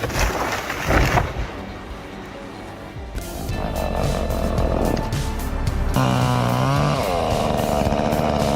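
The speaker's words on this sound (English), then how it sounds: "High above the ground, a man fearlessly tackles a tree, chainsaw in hand." A chainsaw cutting into a tree high above the ground, the engine buzzing loud and steady and changing pitch as it bites into the wood, alone without talk.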